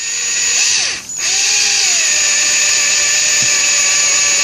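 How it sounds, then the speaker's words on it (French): Electric drill boring straight into a birch tree trunk, a loud continuous high whir that briefly dips and revs back up before running steadily, up close and alone. "la perceuse que j'ai préparée tout à l'heure, et je fais un trou tranquillement, bien droit, jusqu'à temps que le bois devienne humide"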